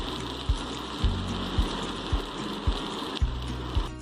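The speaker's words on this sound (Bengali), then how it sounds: "তো চালটা একটু ভাজা ভাজা করবো" Gobindobhog rice and lentils dry-frying in a pan for khichuri: a steady, even hiss with a soft low knock about every half second, most likely from stirring, and no voices.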